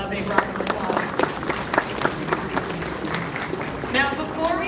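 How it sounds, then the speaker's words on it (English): Audience applause in a SeaWorld animal rescue presentation, a moderate crowd clapping steadily with a presenter's voice talking over it and some cheering toward the end. "Let's go ahead and give this handsome fella a big round of applause."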